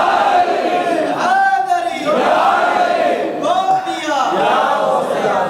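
A large crowd at a religious gathering shouts a reply to a slogan in loud, rhythmic waves, three surging collective chants in quick succession.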